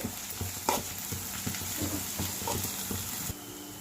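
Chili powder and ginger garlic paste stirred in a frying pan for an egg curry: a soft steady sizzle with scraping spoon strokes, and the frying noise drops near the end.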